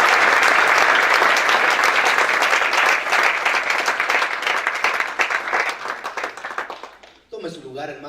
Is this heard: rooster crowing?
no